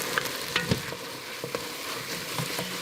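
Onions frying in a pan for French onion soup, with cooking sherry poured in and stirred, giving a steady close sizzle broken by a few light scraping stirs against the pan bottom.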